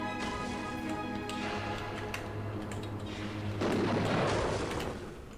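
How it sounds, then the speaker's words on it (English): Video game explosions: a steady rumbling barrage gives way to a louder burst of crackling blasts near the end, dense and continuous with no talking. "Because it's exploding right there."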